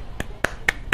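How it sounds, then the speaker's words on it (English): Golf clap in the baseball video game MLB 14 The Show: a few sharp, evenly spaced single claps, close and crisp, with nothing else around them. "Golf clap."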